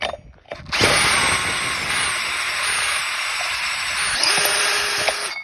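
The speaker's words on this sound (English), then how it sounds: "Step drill bits are awesome." A step drill bit bores through metal on a farm, the power drill whining steadily at high pitch for several seconds after a brief start, close and loud, with a short change in tone near the end.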